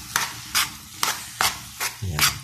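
Poqui poqui, an Ilocano eggplant and egg dish, stirred in a pan in about six evenly spaced scraping strokes, each one a short close rasp over a soft sizzle, with no voices.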